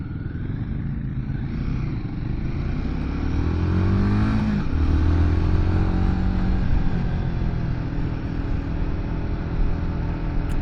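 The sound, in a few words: Royal Enfield Guerrilla 450 motorcycle engine while riding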